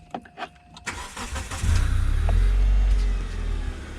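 A Kia Spectra engine cranks and catches, then settles into a loud, steady running rumble as the car begins to move, with a few clicks and clunks beforehand and no talk.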